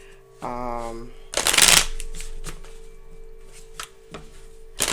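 A triple deck of tarot major arcana cards being shuffled, giving one close, crisp riffling burst lasting under half a second, followed by softer taps and card handling, with a brief voice-like tone just before.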